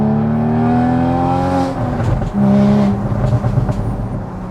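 A car engine blips sharply to rev-match a downshift, the pitch rising then dropping before a brief second rise, loud and close over road noise.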